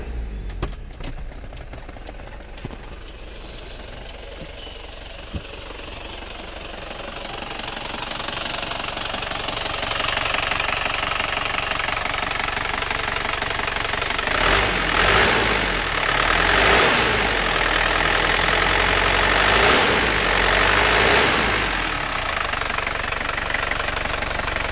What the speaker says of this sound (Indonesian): Sekarang kita hidupkan dulu mesinnya itu seperti apa.